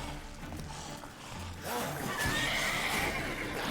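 Roach, Geralt's horse in The Witcher 3 video game, lets out a loud, close neigh with a quavering whinny, mixed with hoof clip-clop and game ambience.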